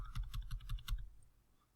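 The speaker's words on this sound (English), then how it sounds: "I can adjust that with keys on my keyboard." Keys on a computer keyboard tapped in a quick run of about six strokes, close and distinct, then a fade to near silence; no one speaks.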